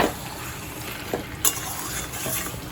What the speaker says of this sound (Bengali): এই চিকেনটার সমেত আমি তেল মশলা 10 মিনিট কষবো ভালো করে।